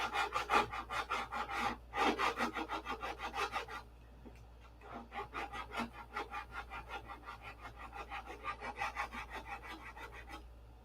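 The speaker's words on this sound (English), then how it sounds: "Need to get this sanded off." Hand sanding on a P-47 model airplane fuselage: steady back-and-forth rasping strokes, close and fairly loud, with a brief pause near the middle before the rhythmic rubbing resumes.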